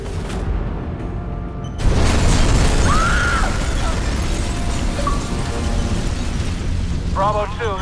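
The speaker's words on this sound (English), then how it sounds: "Source of explosion was an oil truck on the bridge surface." A sudden loud explosion of an oil truck on a bridge in Batman: Arkham Origins erupts and settles into a sustained rumbling roar with crackling debris, accompanied by game-style electronic tones.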